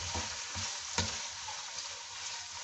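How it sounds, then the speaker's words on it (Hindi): Chicken and garlic sizzling in a frying pan as they are mixed, a constant crackle under repeated low scraping stirs and one sharp clink of the utensil, nearby and moderately loud. "चिकन ऐड करने के बाद इसको अच्छे से मिक्स कर लेंगे"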